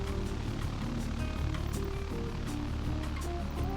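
A BN-2 Islander propeller aircraft flies by in Microsoft Flight Simulator on a Caribbean island-hopping route, a steady droning engine and propeller hum with a low rumble, continuous and moderately loud.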